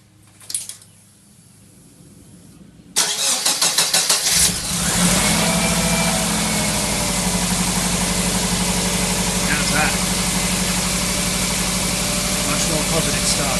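Cold start of a Subaru engine after sitting overnight, a brief cranking burst followed by a sudden catch and loud, steady idle that continues evenly, with some talking before the start.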